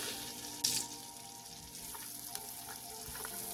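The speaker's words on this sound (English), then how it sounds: "put some onions in." Onions sizzle steadily in butter in a pot for beef stew, a continuous close frying hiss with a brief louder burst near the start and faint clinks, no talking.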